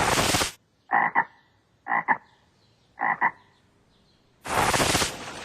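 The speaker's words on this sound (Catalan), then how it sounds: "L'únic que tinc és un vídeo avorrit d'una granota presumida." A cartoon frog croaks three times in short double-pulsed calls, evenly spaced and close, between louder bursts of noise at the start and end.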